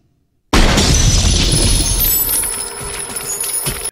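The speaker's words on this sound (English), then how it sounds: "they turn on the sprinklers, which freezes the alien, causing it to shatter into a million pieces" A frozen alien creature shatters in a sudden loud crash of breaking, glassy fragments, followed by a few seconds of scattering, tinkling debris that fades out.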